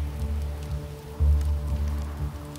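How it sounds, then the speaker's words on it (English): Steady rainfall patters in a video game, a soft continuous wash under low rumbling ambience, with a brief louder swell partway through and no talking. "I hear the rain in the distance"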